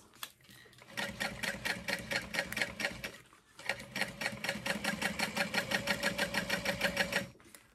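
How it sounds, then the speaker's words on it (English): Sewing machine stitching along the top of a fabric backpack, two bursts of rapid rhythmic needle clatter separated by a short pause, close and fairly loud. "sew along the top and then baste stitch around the outer edges"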